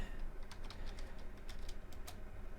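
Someone types on a computer keyboard in quick clicky bursts of keystrokes, close and moderately loud, with short pauses and no talking.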